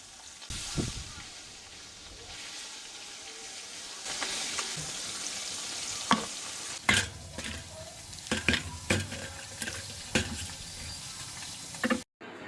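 Fish fries in a pan with a steady background sizzle while utensils clink and scrape now and then in a home kitchen, the sounds close but fairly quiet.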